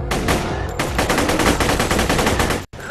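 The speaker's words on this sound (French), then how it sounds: "bien cette mitraillette, ça tire vite" A machine gun firing rapidly in the video game Borderlands 2, a loud, dense burst of shots in a fast steady rhythm, briefly paused and then cut off near the end.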